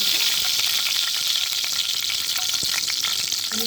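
Chilies sizzle steadily in hot oil in a pan as they are stirred, a dense close-up crackle broken by light scraping strokes.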